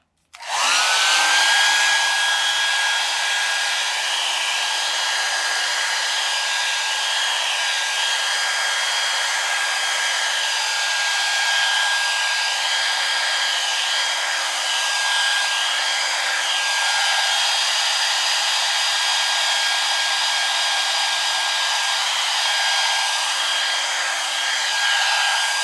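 A hair dryer blows a continuous, loud, steady whoosh with a faint high whine while drying acrylic paint, running unbroken for over twenty seconds with no voices.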